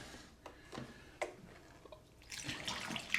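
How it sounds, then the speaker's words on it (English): Tap water running and splashing while a plastic funnel is rinsed of yellow residue, quiet and close, with small clatters and bursts of spray as the flow hits the funnel and sink. "I'm gonna rinse out my funnel so I get most of the yellow off of it"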